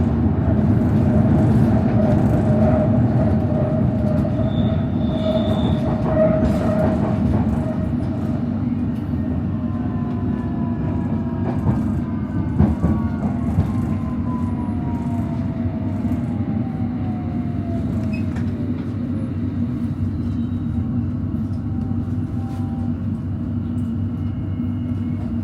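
London Underground Metropolitan line train running near Finchley Road, a constant low rumble and clatter from the carriage with whining tones sliding down in pitch and occasional sharp knocks over the rails.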